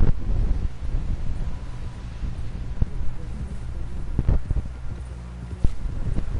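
Horse hooves clip-clopping in Red Dead Redemption, soft irregular steps under steady wind-like outdoor noise, with a few sharper knocks standing out, no talk.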